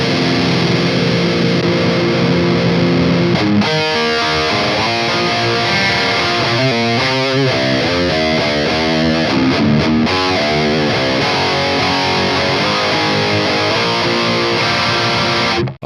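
Heavily distorted electric guitar through a Marshall Valvestate amp switched to a Diesel tube power amp plays chugging riffs and chords with a thick, saturated amp tone, loud and continuous throughout.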